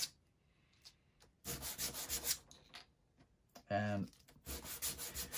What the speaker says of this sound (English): we need to sand the sides. Probably sandpaper is going to be easier.